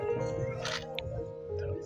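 Single-lens reflex camera shutter firing during a photoshoot with a model, a short crisp click over steady room tone and faint voices.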